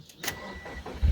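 Subaru car engine starting right after a fuel pump and filter replacement: a short crank followed by the engine catching with a sudden loud low rumble at the end.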